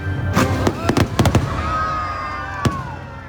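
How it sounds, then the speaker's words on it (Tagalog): Fireworks bursting at a Chinese New Year–style celebration honoring Our Lady of the Rosary of Manaoag, with several sharp loud bangs clustered early and one more later, crackling over a steady crowd murmur. "Makakalagabog ng fireworks."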